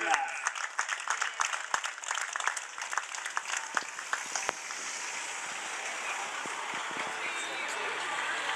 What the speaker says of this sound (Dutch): Ook een derde applaus voor de dienstelijke wedstrijd voor Walter Leighton.